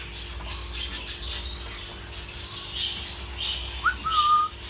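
Soft budgerigar chirps and a short whistle rise near the end over faint background noise, with no talking.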